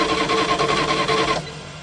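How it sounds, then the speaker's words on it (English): A 1979 Dodge truck engine cranks over on its starter in a quick, rhythmic chugging burst for about a second and a half, then cuts off abruptly to quiet. "All right, let's listen to it crank over."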